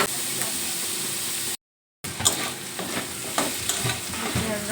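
Chopped onion sizzles over lightly browned chicken in a pan for homemade momos, a dense steady frying hiss with repeated scraping stirs, cut by a brief silent gap.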